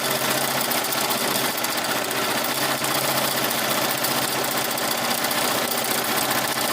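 A Melco EMT16X embroidery machine stitching at 900 stitches per minute gives off a steady, fast mechanical clatter with a dense, even rhythm, loud and close, unbroken throughout with no voices.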